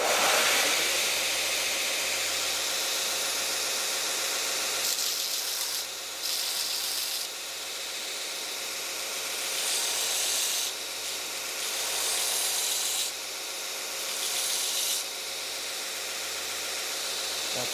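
A steady, loud grinding hiss as the broken tip of a Shun Ken Onion kitchen knife is ground down on a powered grinder, continuing for the whole stretch with slight dips as pressure shifts, no voices.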